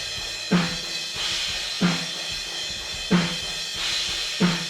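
Four spaced snare hits through room microphones ring out with a roomy, distant character, each crack followed by a wash of ambience and a steady background hiss.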